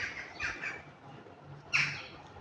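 A seagull squawks once, loud and fairly close, with a softer bird call earlier, outdoors where a falcon has been seen.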